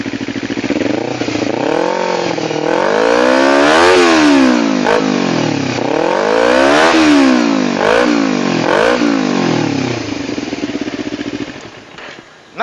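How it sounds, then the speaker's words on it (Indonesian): A 2011 carbureted Kawasaki Ninja 250 fitted with an R9 aftermarket exhaust revs hard several times in a row, the engine note climbing and falling in sweeping bursts, loud and close, before dropping away at the end. "karakter dari knalpot R9 di Kawasaki Ninja Karbo ya tahun 2011"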